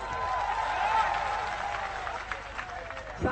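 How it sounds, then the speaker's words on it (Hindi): Audience at a Hindi political speech clapping in a steady, fairly loud wash of applause mixed with crowd noise, with voices audible over it near the end. "तालियां बजाओ"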